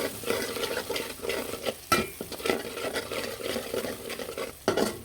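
Garam masala and finely chopped onion fry in hot oil for a spiced chicken dish, a steady close sizzle with stirring scrapes and a few sharper clatters of a utensil against the pan.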